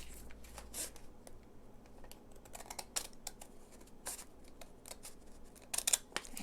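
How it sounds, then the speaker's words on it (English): Scissors snip through a recycled paper envelope in a series of crisp, close cuts, irregular in rhythm with brief pauses between strokes. "we're gonna take our scissors and we're going to cut the edge of each side down to where that pencil line is"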